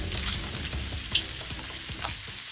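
Pork belly fries in a hot pan with a steady, close crackling sizzle, broken by scattered pops and spits of fat throughout, with no talking.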